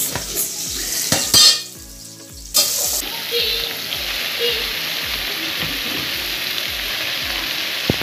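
Garlic and food frying in a pan, a steady hiss of sizzling oil with loud bursts as food is stirred, and rhythmic low scraping knocks running through it, close by.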